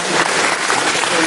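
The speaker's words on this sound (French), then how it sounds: "J'applaudis" A crowd applauds with steady, dense hand clapping, continuous and fairly loud throughout the short stretch, with no individual claps standing out.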